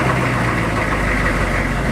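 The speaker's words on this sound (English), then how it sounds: "You do get quite a bit of engine noise." Cabin of a Hummer H1 converted to road spec fills with loud, rough, low engine drone and rumble, steady throughout, with no talk.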